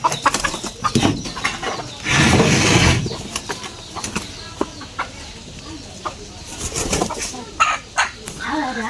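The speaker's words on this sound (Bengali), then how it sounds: "তো এখন হচ্ছে হাঁস মুরগি ছাড়বো" Ducks and chickens released in a village yard, a burst of clucking, squawking and wing flapping at close range, followed by scattered clucks and rustling.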